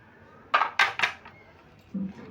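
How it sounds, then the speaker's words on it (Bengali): A lid is lifted off a metal dish holding rested samosa dough: three quick bright clinks close together, a brief pause, then a softer dull knock as it is set down nearby. "এবার আমি ঢাকাটা খুলে নিচ্ছি"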